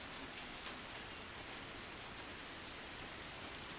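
Steady rain falls in the Wildlife Park 3 video game, a continuous even hiss of drops with no break across the clip and no voices over it.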